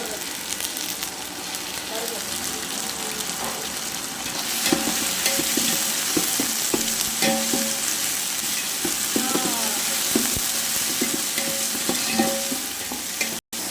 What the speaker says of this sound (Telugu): అల్లం చిల్లిపాయ వేసుకుంటున్నానండి.